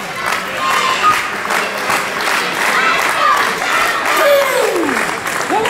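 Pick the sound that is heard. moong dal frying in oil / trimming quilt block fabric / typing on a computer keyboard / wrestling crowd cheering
wrestling crowd cheering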